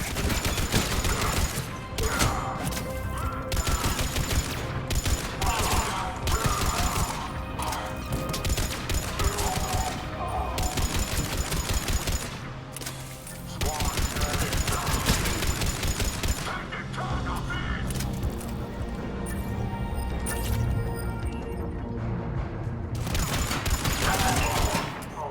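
Sustained gunfire rattles through a turret fight in the video game Mass Effect 3, dense overlapping bursts with impacts and game effects, loud and nearly continuous, with voices calling out over it.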